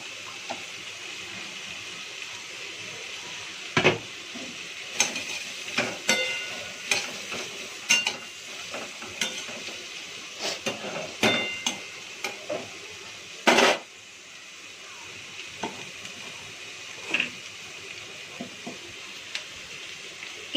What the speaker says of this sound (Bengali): রসুন কুচি সব দিয়ে দিলাম।